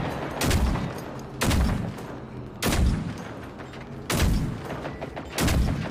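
Heavy gunfire in the video game Generation Zero aimed at a rival: five loud, booming bursts of shots about every 1.3 seconds, each trailing into a rumbling echo, with no talking.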